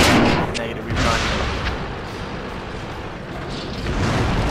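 Artillery fire rumbles through a World of Tanks Clan Wars battle, a dense ongoing wash of booming shots and low blasts that stays loud across the whole stretch, with faint voices underneath.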